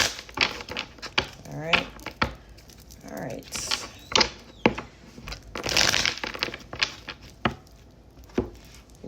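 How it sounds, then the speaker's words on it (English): Tarot cards being shuffled by hand, a run of quick crisp riffles and soft slaps and crinkles, close and moderately loud, with brief talk breaking in between the bursts. "let's go ahead and shuffle"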